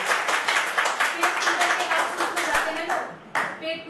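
Audience clapping at a Hindi poetry recital in Palam, Delhi, a steady patter of many hands filling the room for nearly four seconds, with voices talking over it.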